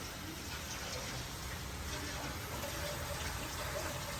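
Water poured into a kadhai of frying onions and masala, a steady wet gushing hiss close by over a constant broadband sizzle, lasting throughout.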